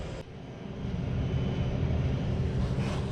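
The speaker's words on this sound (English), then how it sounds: "Sorry about the noise in the background. That's just the furnace." A household furnace roars steadily in the background, a broad low rumble that swells slightly after a brief dip near the start and then holds even, with no talking over it.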